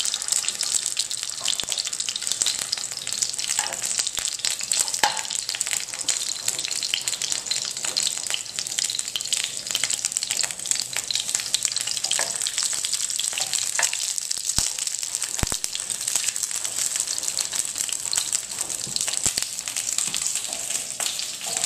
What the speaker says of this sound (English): The thing with pot stickers is you want to kind of pan fry them first in the oil